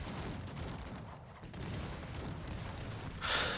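Dense, continuous crackling gunfire and muffled blasts fill the scene, a steady barrage of battle noise with no pauses, from a battle in the strategy video game Cossacks 3.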